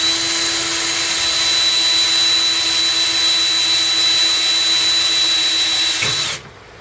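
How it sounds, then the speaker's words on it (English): A power drill whines at a steady high pitch while boring a hole through a solar panel frame with a board underneath, loud and close for about six seconds before cutting off abruptly. "When I'm drilling the hole, I make sure and have this board underneath"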